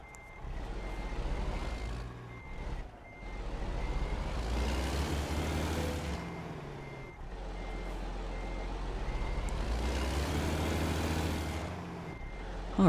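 A truck backs a curved trailer in American Truck Simulator: a low diesel rumble runs steadily while a backup alarm beeps in a regular rhythm, loud and close, with no talking.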